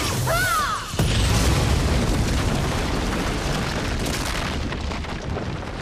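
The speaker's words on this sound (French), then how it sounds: "Ouais, c'était bien une catapulte de Kiran, je les reconnaîtrais entre mille." In a Redakai cartoon, a catapult projectile near a castle whistles downward and then explodes in a loud, close boom, followed by a long, roaring rumble that slowly fades.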